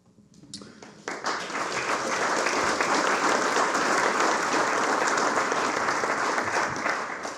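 Warm audience applause for guests at a celebration of Whistler's municipality and its mayors, swelling after a second into loud, sustained clapping from a large crowd that holds steady to the end.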